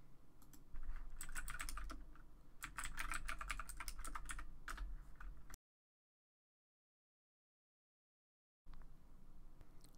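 Someone types a fastboot command on a computer keyboard in quick, close bursts of clicking keys. The sound cuts out to silence for a few seconds, then comes back quietly.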